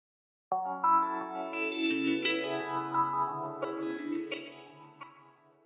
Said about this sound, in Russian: Давай добавим сюда реверберацию.